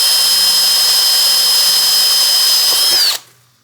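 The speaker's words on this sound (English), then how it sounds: "let's go ahead and drill these out" A power drill runs continuously at high speed, drilling out rivets on a Yamaha Banshee, a steady loud whine that holds for about three seconds before the motor stops and spins down.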